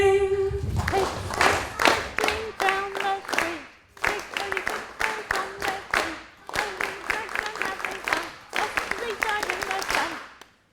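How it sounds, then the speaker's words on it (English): Hands clap in rhythm with the words of a children's song, sharp claps in quick phrased bursts with short pauses between lines, mixed with sung voices. "let's clap the words as we sing the song"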